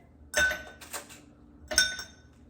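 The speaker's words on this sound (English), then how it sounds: "We're gonna put ice in here." Ice cubes drop into a glass in two separate clinking bursts, close and crisp against a quiet background.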